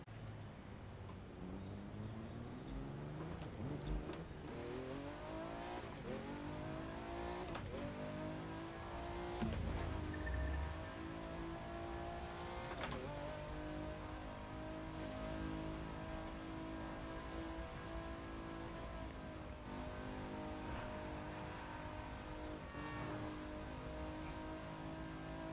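Car engine in The Crew 2 racing game revving hard under heavy throttle, rising and falling in repeated sweeps with gear shifts, loud and steady throughout with brief tire noise.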